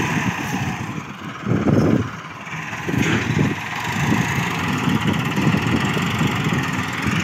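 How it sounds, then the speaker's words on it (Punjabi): A Massey Ferguson 265 tractor runs in a field, its diesel engine chugging steadily close by, with a few louder surges and rumbles over the continuous drone. "ਤੇ 265 ਟਰੈਕਟਰ ਹੈਗਾ"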